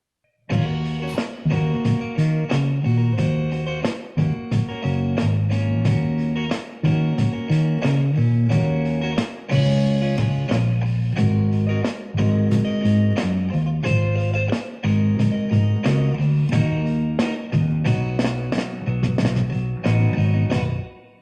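A full band groove with a steady drum beat, chugging guitar and a deep bass line, loud and continuous with brief rhythmic breaks.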